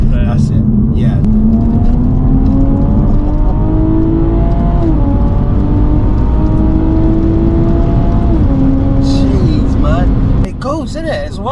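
A 420 bhp Stage 1 tuned Toyota Supra revs hard while being driven, its loud engine note climbing and dropping through gear changes before a short lift off the throttle, with people talking inside the car.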